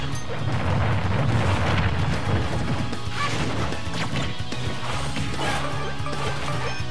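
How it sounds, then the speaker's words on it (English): A fire mine explodes in Super Smash Bros Ultimate with a dense, loud crash and crackling burst that fills the whole stretch amid other game noise. "The secret fire mine killed him."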